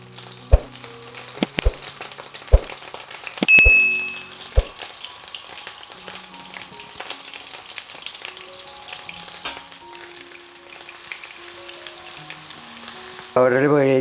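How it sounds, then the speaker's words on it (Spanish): Finely chopped small onion frying in a pan, a steady soft sizzle with a few sharp clicks and knocks of a utensil early on, then a quiet crackle and a louder burst at the end. "Voy a echarle la cebolla, que la tengo picada pequeñita"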